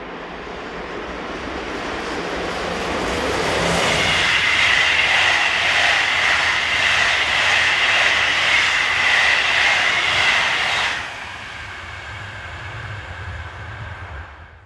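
Locomotive 26026 hauls a Bourges to Paris train past, a broad rushing roar of wheels and engine that swells, holds loud and steady for several seconds, then cuts down abruptly as the train clears.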